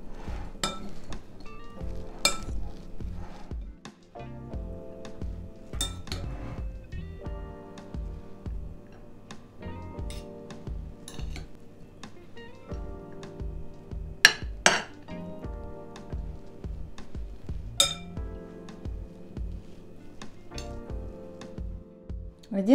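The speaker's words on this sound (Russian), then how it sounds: "Все это тщательно перемешиваю." A salad of meat with garlic is mixed in a bowl while the meat is still hot, with repeated clinks and knocks of a utensil against the dish in an uneven rhythm over soft background noise.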